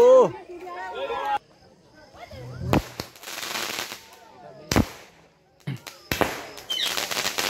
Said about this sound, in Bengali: একদিকে চলছে আতশবাজি পোড়ানো